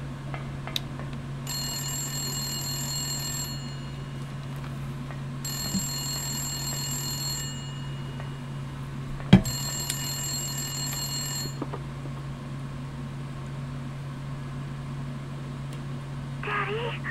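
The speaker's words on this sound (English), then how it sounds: "Phone call, Mr. Anderson." A telephone in the Silent Hill video game rings in three long, electronic bursts spaced a couple of seconds apart, clear over a low steady hum, with a sharp thud between the later rings.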